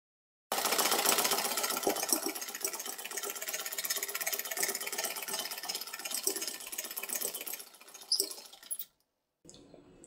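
Electric sewing machine stitching quilted fabric blocks with a fast, steady mechanical whir and rattle, close and continuous, then stopping briefly near the end before restarting.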